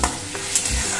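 Spice paste sizzles in a pan for a katla fish curry, with a soft steady fry and brief scraping stirs.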